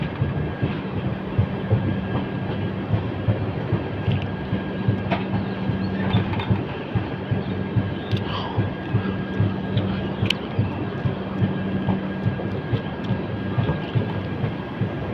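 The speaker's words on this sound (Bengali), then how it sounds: "ট্রেন নিজস্ব গতি নিয়ে এগিয়ে চলছে সরাইঘাট ব্রিজের দিকে।" An Intercity Express train hauled by a WAP-7 electric locomotive runs along the track toward Saraighat bridge, with a steady loud rumble and rhythmic wheel clacks heard from on board.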